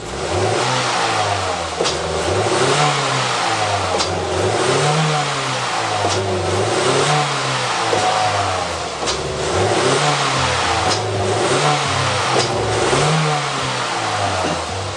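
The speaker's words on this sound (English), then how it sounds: "we should see a massive spike under hard acceleration" A Toyota Echo engine that hesitates under acceleration revs hard in loud repeated surges, rising and falling in a steady rhythm over about fifteen seconds, with no voices.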